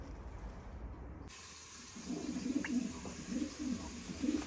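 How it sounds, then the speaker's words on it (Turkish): Pigeons cooing after dark in a coop, soft rounded coos repeating in a loose rhythm near the listener over a faint background hiss. "gösterelim kuşları"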